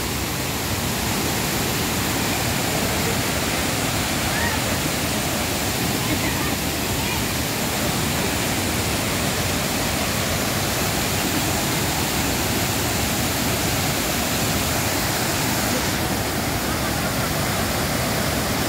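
Tinuy-an Falls in Bislig, Surigao del Sur, roars as a steady, broadband rush of falling water, loud and unbroken, with voices faintly talking beneath it.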